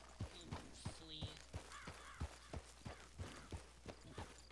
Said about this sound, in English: It's a wild horse.